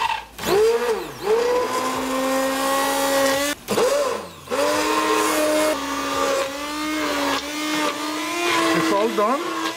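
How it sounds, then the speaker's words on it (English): A hand blender whirs through spinach gravy for palak paneer in a pan on low heat, a steady loud motor whine that dips and surges with brief pauses as the blade moves through the mixture. "I'm going to use a hand blender"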